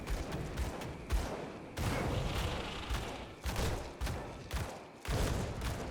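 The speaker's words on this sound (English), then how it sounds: "It's that sort of explosion of fire that is triggering every time." Fiery explosion effects from the Vindictive Flame ability in the game Grim Dawn burst repeatedly amid dense, continuous combat noise, with loud crackling blasts recurring every second or so.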